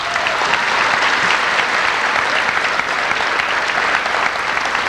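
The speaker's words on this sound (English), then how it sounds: "Let's give another round of applause." A crowd at a community walk event gives dense, sustained applause that fills the space evenly and stays loud throughout, with no voices standing out.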